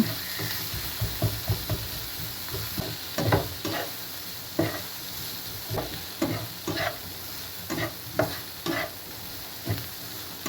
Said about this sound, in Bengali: এই পর্যায়ে একটু পোড়া পোড়া করে সুন্দর করে ভেজে নিতে হবে